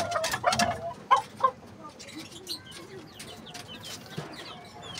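A game fowl hen clucking close by in a short run of soft, irregular clucks, with other faint bird calls and farmyard sounds behind.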